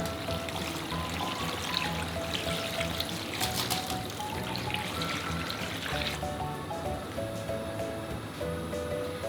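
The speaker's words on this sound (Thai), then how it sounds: "เติมน้ำเปล่าลงไปนะคะ จนท่วมฟักทองของเรานะคะ" Plain water pours steadily into a pot of pumpkin pieces for a Thai pumpkin-in-coconut-milk dessert, a continuous close trickling and splashing stream lasting several seconds with no talk.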